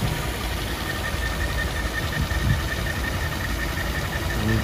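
A Mercedes 380 SL R107 V8 from the 1980s rumbles steadily at idle, a low, continuous engine hum that stays even and close throughout.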